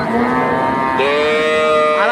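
Loud, drawn-out cattle moos at a rain-soaked cattle market, one low call followed by another rising bellow, close by with no speech over them.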